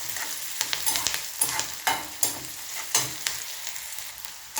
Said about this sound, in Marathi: कांदा चांगला परतून घ्यायचा आहे लालसर कांदा होईपर्यंत परतून घ्यायचा आहे